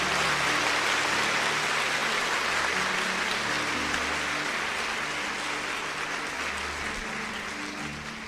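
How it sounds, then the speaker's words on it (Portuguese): A church congregation applauds strongly for a guardian angel, dense steady clapping filling eight seconds like heavy rain, loud and even with a faint murmur underneath. "aplaude mais forte o seu anjo."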